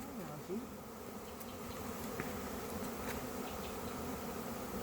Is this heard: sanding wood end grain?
no